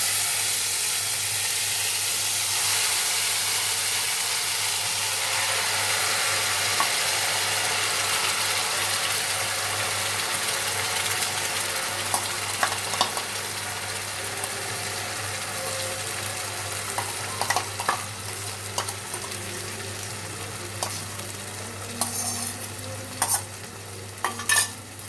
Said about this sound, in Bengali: আমার তেল গরম হয়ে গিয়েছে, আমি মশলাটা দিচ্ছি এবারে।